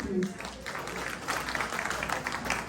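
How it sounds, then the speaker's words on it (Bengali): A crowd applauds at an award ceremony, a dense wash of clapping that continues steadily throughout, with a voice briefly audible at the start. "মেহার জন্য জোরে একটা করতালি"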